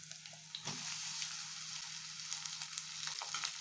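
Pieces of ivy gourd tipped into hot oil in a pan for a spicy dry fry, setting off a bright, steady sizzle with a soft splash as they land and light stirring noises, alone without talk.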